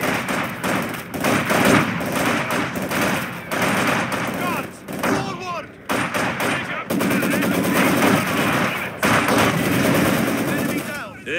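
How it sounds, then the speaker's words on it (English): Rapid machine-gun bursts and single rifle shots ring out across a Company of Heroes 2 battlefield, dense and loud throughout with brief lulls, while soldiers' voices call out over the firing. "Taking fire!"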